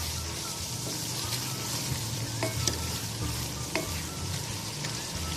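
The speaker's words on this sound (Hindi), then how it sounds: "इसको चलाएंगे चमचा, इसको अच्छी तरह मिक्स करना है मसालों को" Spiced minced meat and potatoes for dhaba-style aloo qeema are stirred with a spoon in a pot, giving a steady sizzle with a few sharp spoon scrapes and clinks against the metal.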